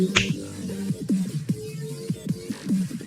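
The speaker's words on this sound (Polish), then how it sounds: "Dzisiaj będę pstrykał." Finger snapping by someone playing Pet Simulator X in Roblox: a string of sharp, close clicks at an uneven pace over game sounds, with no talking.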